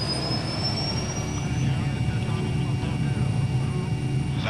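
A medical emergency helicopter takes off from a hospital in Châteauroux, its engine and rotor giving a loud, steady roar that holds unbroken throughout.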